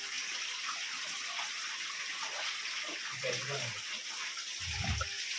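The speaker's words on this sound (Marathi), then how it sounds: "हा आवाज पाण्याचा आहे." Water running and splashing inside a Ramling temple, a steady broad wash of flowing water with a few louder gushes near the end, no voices.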